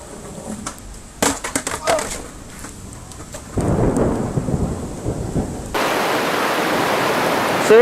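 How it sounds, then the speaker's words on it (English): Thunderstorm outdoors with rumbling thunder and rain: loud, broad rumbles and crackles come in bursts, then a steady, heavy rain hiss fills the rest, with no voices. "now it looks like a storm's coming"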